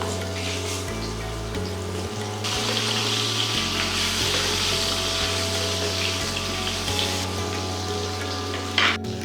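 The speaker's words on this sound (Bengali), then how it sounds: "আলু কিন্তু হালকা রং ধরা অবধি ভাজবেন" Sliced potatoes fry in oil already used for frying fish, giving a steady close hiss and bubbling sizzle with low background hum throughout and a brief clatter near the end.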